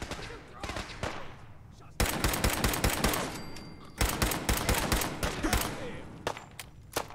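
Rapid bursts of gunfire in the Fallout 4 VR video game, loud and close, coming in dense volleys with brief pauses between them.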